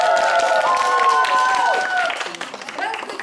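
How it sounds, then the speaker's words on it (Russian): An audience applauds at a 2015 Bashkiria festival show while music with sustained tones plays over the clapping, which thins toward the end. "Аплодисменты лучшему."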